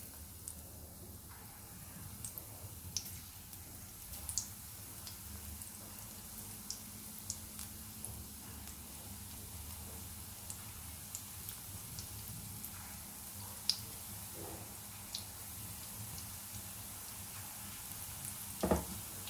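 Small balls of pakora batter frying in hot oil make a steady, faint sizzle, with soft pops and crackles scattered through it and a few louder clinks near the end.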